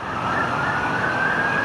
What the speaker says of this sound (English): Got some ambulance cruising on the run to somewhere.